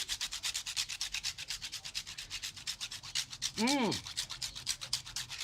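Fresh horseradish root is scraped across a grater in steady, rhythmic rasping strokes, close and loud, with a brief squeaky scrape near the end and no talking.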